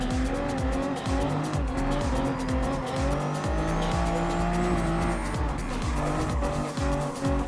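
A Toyota Supra race car in Gran Turismo Sport roars loudly through corners, with a continuous high engine whine, repeated gear changes and long tire squeals.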